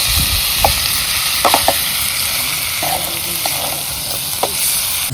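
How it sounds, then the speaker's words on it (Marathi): Masala paste sautéing in a kadai gives a loud, steady sizzle, with a spoon scraping and clinking against the pan in irregular strokes throughout. "कढईमध्ये बघा कसं परतायचं चालले."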